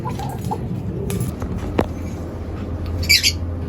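African lovebirds in a pairing cage give a few short squawks and chirps over steady room noise, with a sharper, louder call near the end.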